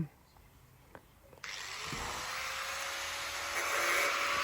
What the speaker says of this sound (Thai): ขั้นตอนนี้เราจะใช้หินเจียแบบหนานะครับผม